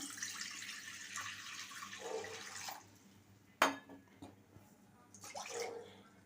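Water poured into a kadai set on a gas stove, heard as a soft splashing gush that fades out, then a sharp clank and another brief pour, fairly quiet and close with no talking.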